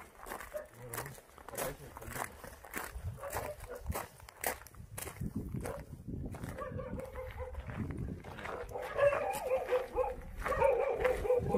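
A Jindo dog barks repeatedly on the island of Jindo in Korea, sharp yips and barks in bursts mixed with whimpers and footsteps, close by, while someone talks over it.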